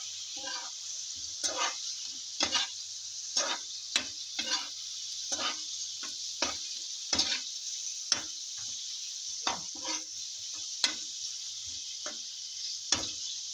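Fish sizzles steadily in a hot pan while a utensil scrapes and stirs in repeated strokes, close by, as it is sautéed with radish.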